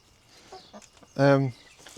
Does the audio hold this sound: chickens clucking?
yes